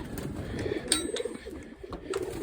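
Pigeons coo softly and repeatedly inside a loft, several overlapping low calls with a few brief higher chirps, close by and fairly quiet.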